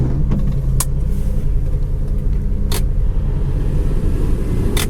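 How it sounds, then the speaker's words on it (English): A heater fan runs inside a 1971 Ford Torino GT hardtop, a steady close blowing whoosh with a low rumble underneath and a few faint clicks, continuous throughout with no talking. "Heater fan works."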